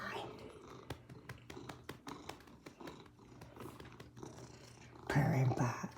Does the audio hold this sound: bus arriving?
no